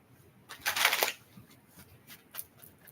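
Tarot cards riffle in a quick, soft shuffle, a short flurry of papery snaps followed by a few lighter taps, close and quiet.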